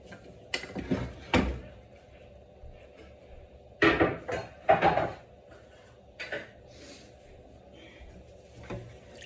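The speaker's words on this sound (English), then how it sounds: "Now I'm going to start stirring this, constantly stirring this milk." Spoon scraping and clanking in a pot of milk pressed from wheat flour, a few irregular clusters of knocks and scrapes, close and moderately loud, with quiet gaps between.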